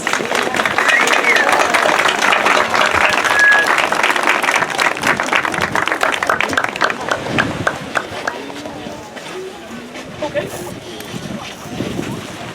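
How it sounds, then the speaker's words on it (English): Loud sustained audience applause at an outdoor Hiroshima-Nagasaki remembrance and peace lantern ceremony, a dense crowd of clapping that gradually thins and fades toward scattered claps. "Can we give them another round of applause?"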